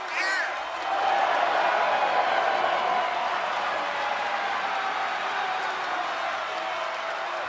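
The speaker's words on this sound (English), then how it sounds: "Listen to this ovation. The WWE Universe loves cheering on the EST." Arena crowd ovation in the wrestling video game WWE 2K24, a broad sustained roar of cheering and clapping that swells after a second and holds steady.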